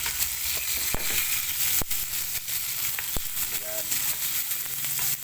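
Onion, garlic and tomato sauté in a pan with a constant, close sizzle, broken by a few sharp clacks of a utensil against the pan. A voice briefly speaks over the frying.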